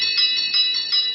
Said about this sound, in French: On peut encore faire sonner les cloches, celles d'un carillon